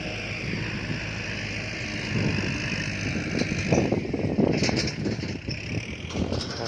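A Thai vintage E-taen farm truck engine runs with a steady low drone while hauling sugarcane, joined by rattling and clanking that grows busier toward the end.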